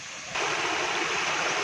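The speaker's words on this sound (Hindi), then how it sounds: "आपको आबशार की आवाज़ आ रही होगी" Samrala waterfall at Samahni rushes in a steady, close broadband roar that swells suddenly after a brief quieter start and then holds loud and even, with no voices.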